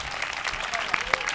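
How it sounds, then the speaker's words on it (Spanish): Scattered applause from a studio audience on a Spanish talk show, a short patter of claps with a few sharper individual hits standing out, fairly close. "un aplauso para Sandra, por favor."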